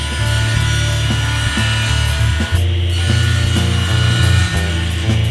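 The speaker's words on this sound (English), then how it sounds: "With my homemade tenoning jig, I'll form a tenon on one side of the handle." A power saw runs steadily as a homemade tenoning jig forms a tenon on a wooden mallet handle, with a loud motor hum and a brief dip as the cut shifts, close by throughout.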